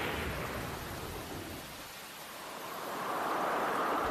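A thunderstorm sound effect in an Australian storm preparedness advert: a dense, steady wash of heavy rain with a rolling, rumbling swell of thunder that builds toward the end, loud and continuous.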